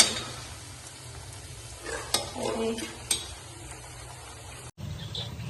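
Pitha frying in hot oil in a wok, a quiet steady sizzle broken by a few sharp stirring scrapes and clinks, briefly cut near the end.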